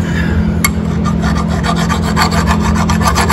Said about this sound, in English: I file all this down, get all the burrs off